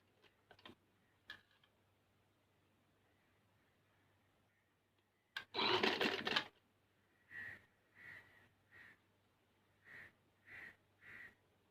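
A sewing machine stitches a Chinese-style shirt collar with a triangle and loops. It makes quiet mechanical clicking, then one longer run of rapid stitching, then several short stitching bursts. No one speaks.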